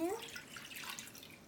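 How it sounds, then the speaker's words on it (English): Liquid for slime pours from a pouring spout into a container, making a steady, soft, continuous trickle for about a second and a half, with no talking over it. "So let's pour that in there."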